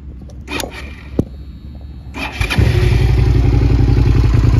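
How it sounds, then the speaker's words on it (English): A 2006 Suzuki SV650S 650cc fuel-injected V-twin with an aftermarket carbon exhaust starts up after a few thumps and settles into a loud, steady, throbbing idle rumble close by. "great V-twin rumble"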